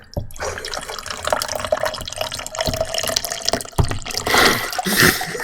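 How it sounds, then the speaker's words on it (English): Water poured into a cup in a Scrap Mechanic game session, a continuous splashing, gurgling stream that swells louder toward the end. "it's just pouring water into a cup"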